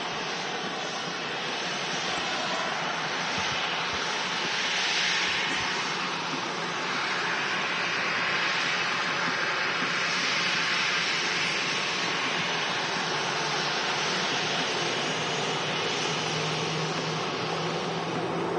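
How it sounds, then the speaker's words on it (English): Ryanair airliner arriving at Manchester Airport from Berlin, a steady broad engine roar that holds loud and continuous, swelling slightly mid-way, with no talk over it. "Ryanair in from Berlin."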